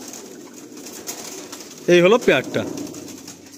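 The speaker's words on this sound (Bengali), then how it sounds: "প্রথমে একটা লালদম পেয়ার, প্রচণ্ড ফুর্তিলা পায়রাগুলো, মানে হাতের নাগালের বাইরে" Laldom pigeons coo softly in their loft, low murmuring calls in the background, with someone speaking briefly over them midway.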